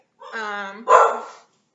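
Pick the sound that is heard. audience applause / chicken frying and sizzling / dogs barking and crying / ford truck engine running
dogs barking and crying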